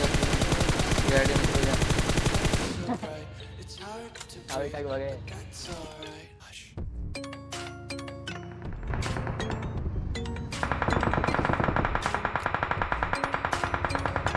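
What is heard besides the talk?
gunfire at a BRDM vehicle in PUBG video game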